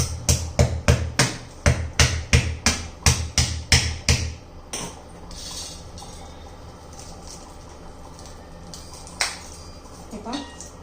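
Roasted mango seeds are cracked open in quick succession, a rapid series of about fifteen sharp, loud cracks over four seconds, followed by quieter handling and a single late crack.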